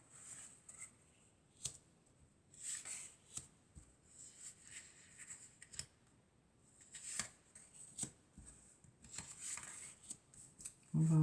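Tarot-style cards are shuffled and drawn for a reading, giving repeated soft riffling and crisp flicks in irregular bursts, close and fairly quiet.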